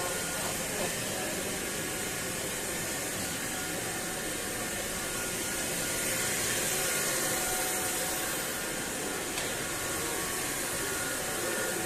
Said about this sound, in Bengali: উপরে এই মেশিন লিফটগুলো আছে, জলটা তোলা চলছে।